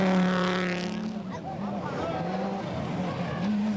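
BMW M3 rally car in the 1988 Cyprus Rally, engine note rising and falling at close range with a continuous loud drone, under a commentator's voice.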